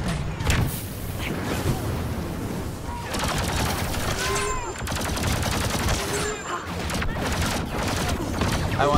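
Rapid laser blaster fire from the sci-fi shooter game Galactic Assault, dense bursts of zapping shots with booms throughout, loud and continuous with brief chirping sweeps in between.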